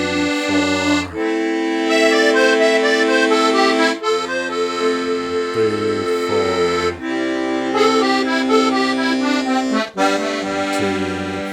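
Piano accordion playing a rock and roll zydeco phrase from the major pentatonic scale, bright reedy melody over steady left-hand chord and bass accompaniment, loud and continuous with short breaks between phrases.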